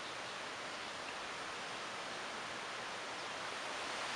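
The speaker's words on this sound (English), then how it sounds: "Sorry about the wind." Strong wind buffeting an outdoor microphone, a steady loud roar of broadband rumble and hiss lasting throughout with no pauses.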